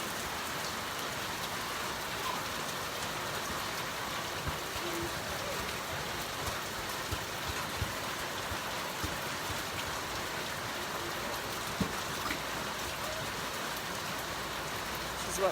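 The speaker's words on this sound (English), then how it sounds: "We hang out in the rain." Steady rain pours onto a porch in Ghana, a dense, even hiss of drops on the roof and surfaces that holds constant throughout with no clear break.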